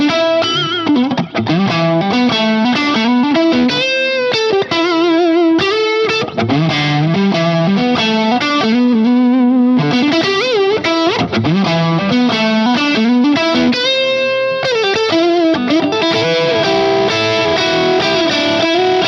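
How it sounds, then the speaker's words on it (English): Crunchy overdriven electric guitar through a Mesa Boogie Stiletto Deuce amp with echo added, a loud continuous passage of chords and melodic runs trailing into repeats, played alone. "Add a little echo to that."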